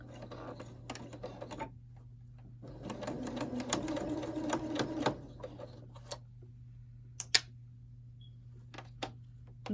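A sewing machine backstitching over elastic on a fabric face mask, a soft rapid needle rattle running for a few seconds in a quiet room, followed by scattered light clicks and handling sounds.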